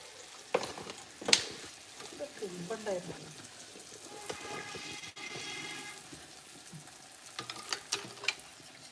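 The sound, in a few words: neyyappam frying in hot oil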